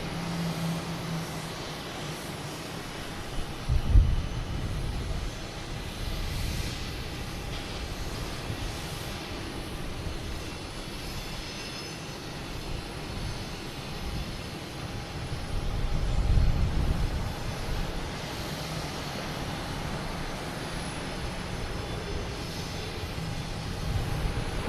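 An Aer Lingus airliner touches down at Boston Logan Airport, a steady distant jet roar with broadband wind-like rumble that swells briefly near the start and again later, with no talk over it.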